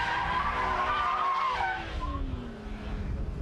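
Car tires squeal continuously in a long power slide, the pitch sliding downward as the slide fades, over a constant engine drone.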